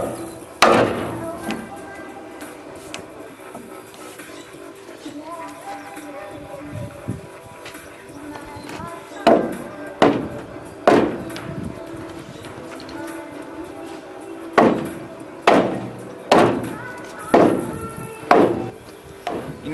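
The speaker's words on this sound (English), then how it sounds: "anytime you're slugging a piece of wood like this, it always helps to use the side of your hammer here instead of just the round face of it" A hammer slugging a piece of wood while building a home-made two-axle equipment trailer: loud, sharp whacks, single at first, then a rhythmic run of evenly spaced blows, over a low shop hum with a voice now and then.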